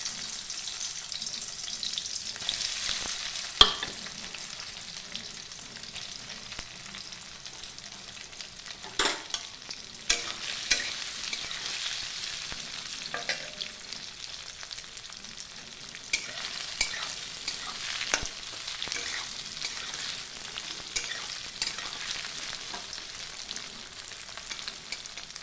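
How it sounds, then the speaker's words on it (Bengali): Eggs frying in oil left from frying potatoes, a soft continuous crackling sizzle with scattered sharp pops and spatters throughout, no voices. "এবার আমি এই ডিমগুলোকে ওই আলু ভাজার তেলের মধ্যেই ভেজে নেব।"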